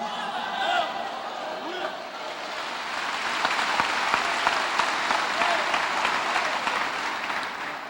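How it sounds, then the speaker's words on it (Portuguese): A church congregation claps in sustained applause, a dense and loud wash of hands that keeps going, with faint voices mixed in. "Vai aplaudindo enquanto pode"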